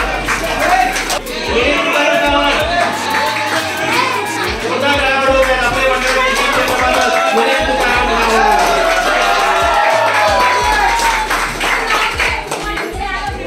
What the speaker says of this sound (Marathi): परत त्या उत्तरावर जोरदार टाळ्या वाजवायचा।